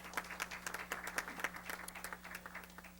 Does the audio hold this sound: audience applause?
yes